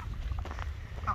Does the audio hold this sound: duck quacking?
yes